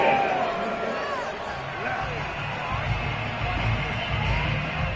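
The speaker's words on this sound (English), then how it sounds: "Well, the crowd doesn't like that." A stadium crowd at an American football game voices loud disapproval of a penalty flag, a sustained roar of booing and shouting in the distance beneath a commentator's voice.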